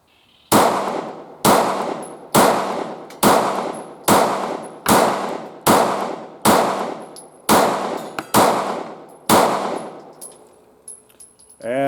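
A Taurus GX4 pistol fires a magazine: about eleven sharp, loud shots in a steady rhythm roughly a second apart, each ringing out briefly before the next, then the firing stops.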